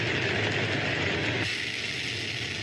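A rocket engine burning hydrogen and oxygen gives a continuous broadband roar. It holds steady at a distance, then drops slightly in intensity partway through.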